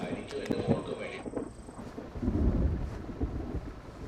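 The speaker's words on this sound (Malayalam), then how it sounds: "പുറത്ത് ഇടിയും മിന്നലും കണ്ടില്ലേ?" Thunder rumbles outside during a storm at night, with a deep, rolling swell in the middle that fades away under faint rain and a little room noise.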